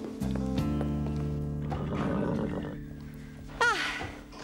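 A horse whinnies loudly and close by in a long, wavering neigh, followed by a shorter snort-like call near the end, with no talk over it.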